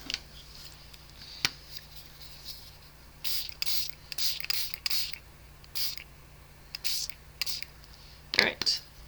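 Short spritzes from a handheld spray bottle misting watercolor paper during a stamping craft session, coming in quick separate bursts with a few single puffs, soft and close in a quiet room.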